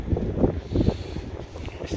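Strong wind gusting at a beach campsite, buffeting the microphone in loud rumbling bursts with no voices.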